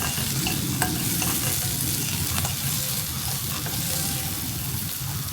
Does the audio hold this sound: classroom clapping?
no